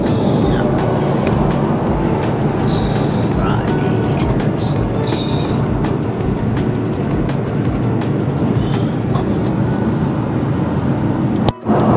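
A hire car drives through city streets on the way to Bribie Island, with a loud continuous engine and road rumble from inside the cabin that holds steady for the whole stretch, cutting briefly near the end.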